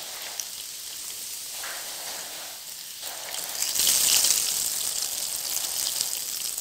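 Green pea kachori deep-frying in hot oil in a kadai, a steady dense sizzle that swells louder and brighter halfway through, with no talking.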